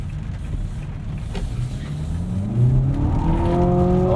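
A 2021 Nissan Altima SR VC-Turbo accelerates hard on a wet road, heard from inside the car: a low hum rises into a climbing engine whine that grows louder through each gear. No voices.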